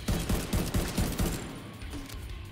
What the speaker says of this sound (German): Muss schön auf die roten Fässer schießen.